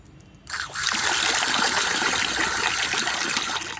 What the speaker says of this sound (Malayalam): ഇനി വെള്ളം ഒഴിക്കണം കേട്ടോ.